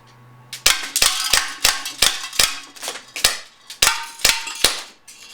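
Umarex Morph 3X 4.5mm CO2 air gun fired in a quick series of about eleven sharp, loud pops with short gaps, each shot snapping close and crisp with a metallic edge.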